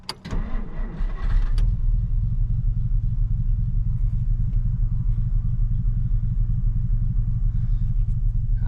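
A 1950 Dodge Meadowbrook engine cranks briefly, fires and catches, then settles into a steady, loud, low idle running close by for several seconds with no talking.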